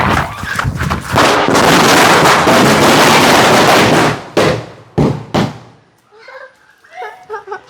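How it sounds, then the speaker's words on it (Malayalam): Firecrackers bursting in celebration of exam results: a long loud crackling barrage, then a few separate sharp bangs tailing off, with voices heard faintly near the end. "അപ്പൊ നമുക്ക് പടക്കം പൊട്ടിക്കുക."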